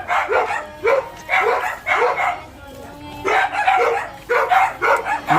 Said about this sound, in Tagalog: May aso. Ingin na aso.